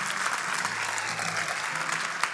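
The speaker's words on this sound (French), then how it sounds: "une bonne main d'applaudissements pour nos lauréates et notre lauréat des prix du mérite" Audience applause for award winners at a merit prize ceremony as they come up on stage, a steady, even wash of many hands clapping from a mid-distance crowd.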